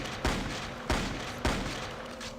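Three evenly spaced loud gunshot bursts from the video game Blood II ring out over a constant droning background, each with a sharp attack and brief tail.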